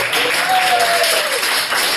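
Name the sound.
comedy club audience applause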